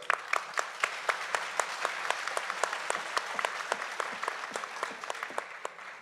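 Steady applause from an audience, many hands clapping at once with a dense, even patter continuing throughout.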